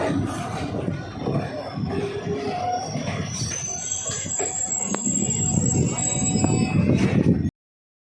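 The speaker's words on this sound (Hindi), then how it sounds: "चंडीगढ़ रामनगर एक्सप्रेस रुक गई है नगीना" Chandigarh Ramnagar Express pulling to a stop at Nagina railway station, with steady rumbling rolling stock, high metallic wheel squeal and a faint bell-like ding, ending abruptly; people talk faintly in the background.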